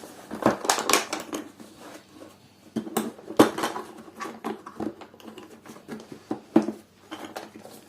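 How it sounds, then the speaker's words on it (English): The cardboard box of an INGCO MG 2008 mini grinder is opened, with scattered close crinkles, taps and rattles of packaging and parts, some sharper clacks among quieter rustling, and no talking. "let's open the box"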